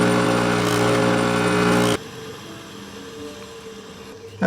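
Lips of a wooden chipmunk lure being touched up with 300 grit sandpaper: a loud, steady buzzing whine runs for about two seconds, then cuts off, leaving quieter faint rasping and room noise.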